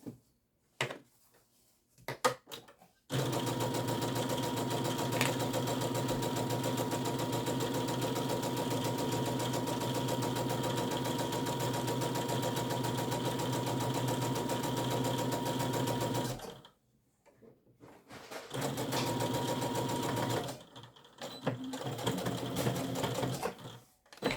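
A sewing machine runs in one long continuous stitching burst across fabric for a tablet case, close and steady with a rapid mechanical rhythm, followed by shorter bursts after brief pauses; no speech.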